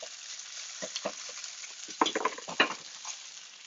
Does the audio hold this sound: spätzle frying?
yes